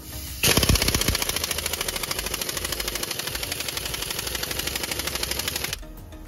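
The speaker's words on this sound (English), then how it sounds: "we got a compressed impact wrench, which is a professional tool" A compressor-driven pneumatic impact wrench, a professional tool run at 150 PSI, hammers in one loud continuous rapid burst lasting about five seconds before stopping.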